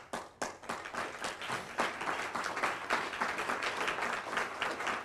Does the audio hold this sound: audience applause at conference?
yes